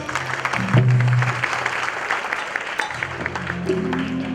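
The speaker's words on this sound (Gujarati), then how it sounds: "જોરદાર તાળીઓથી સ્વાગત કરશું" An audience claps steadily to welcome a singer onstage, a dense continuous round of applause with a sustained musical tone underneath.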